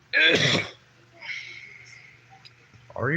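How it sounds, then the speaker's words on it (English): One harsh, throaty cough bursts out up close during a casual livestream chat, followed by a quiet lull with faint background tone before a voice starts again. "I'm just coughing, that's all."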